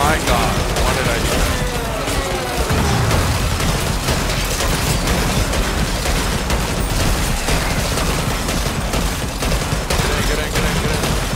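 Grenades go off in the zombie defense game Yet Another Zombie Defense HD, a dense, loud barrage of blasts and gunfire running without a break while a player talks over it.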